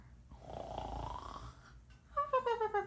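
A voice imitates snoring during a children's story reading, with one drawn-out snore followed by a rhythmic, whistling wheeze.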